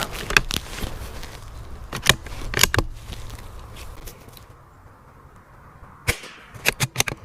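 .22 precision rifle firing Eley Contact ammunition: sharp, close cracks and clicks come in irregular bursts, with a quieter stretch in the middle before a quick cluster of shots near the end.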